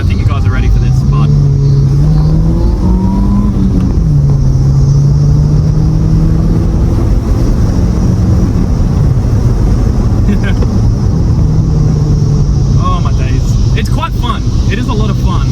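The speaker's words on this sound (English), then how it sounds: "open the 2-litre up and hear that beautiful exhaust modification" A 2000 VW Golf Mk4 with a 2-litre engine and modified exhaust revs and accelerates loudly, its droning note rising and dropping through repeated pulls, with wind buffeting the mic throughout.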